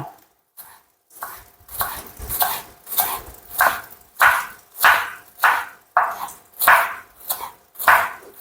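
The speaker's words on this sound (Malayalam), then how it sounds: "നമുക്ക് ചേനയുടെ ഇല ചെറുതായിട്ട് അരിയാം" Steady, rhythmic chopping of elephant foot yam leaves on a board, roughly a dozen sharp knife strokes about half a second apart, close and clear with no talking.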